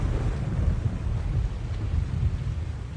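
A chaos storm rages in The Longest Journey video game, a heavy low rumble of wind and thunder-like roar that churns steadily throughout, with no voices.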